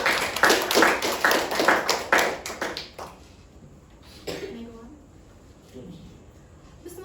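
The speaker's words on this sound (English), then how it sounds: "Clap hand for Andi Nur Nafeeza Azkiya Madina." A room of people applauds a presenter after a transaction-evidence presentation: dense, loud hand clapping for about three seconds, then quickly thinning to a few scattered claps and quiet room noise.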